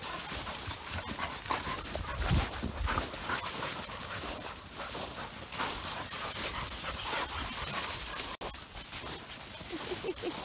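Puppies playing in snow, one panting with quick, rhythmic breaths close to the microphone over a steady noisy background, with a few faint voices.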